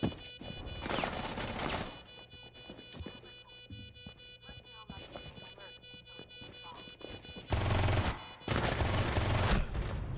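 Bursts of video game gunfire from a short-range weapon, loud volleys at the start and again near the end with quieter scattered shots and game effects between, no words spoken.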